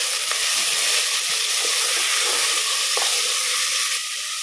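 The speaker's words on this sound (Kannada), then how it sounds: "ಈ ಈರುಳ್ಳಿ ಮತ್ತೆ ಕರಿಬೇವು ಸ್ವಲ್ಪ ಫ್ರೈ ಆಗಲಿ" Onion, curry leaves and small tomatoes frying in a pan for a village-style burnt coconut mutton curry give off a loud, steady sizzle and hiss close by, with faint stirring scrapes and no voices.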